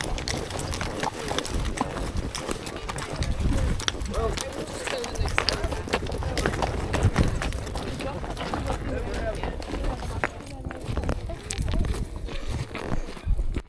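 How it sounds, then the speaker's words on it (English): Hooves of loose, unsaddled horses thud and patter over an open field at Thórsmörk, Iceland, several animals moving at once, steady and mid-distance, with a voice talking over them. "we detacked our horses and turned them loose to run and graze"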